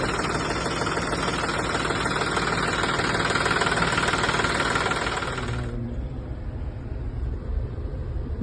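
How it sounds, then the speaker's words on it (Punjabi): A 2017-model tractor engine idles steadily nearby, a dense continuous rumble with a mechanical knock that keeps going without a break, its upper hiss dropping away partway through while the low drone continues alone. "ਲਓ ਜੀ ਆ ਟਰੈਕਟਰ ਸਤਾਰਾਂ ਮਾਡਲ ਜਿਹਨੂੰ ਅਸੀਂ ਦੇਖਣ ਆਏ ਸੀ"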